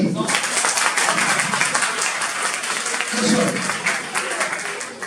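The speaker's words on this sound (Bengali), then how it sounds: "ইন্ট্রোডিউসিং অরিজিৎ সামন্ত। হাততালি।" An audience claps for a newly introduced speaker at a talk on public speaking, a dense, fairly loud burst of many hands that swells and holds steady, with a brief murmur of voices beneath.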